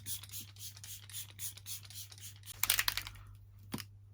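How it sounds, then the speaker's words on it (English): Several quick hisses of Icon London makeup setting spray close up, a rapid cluster of short pumps followed by one more spritz, over a low steady hum. "Icon London setting spray."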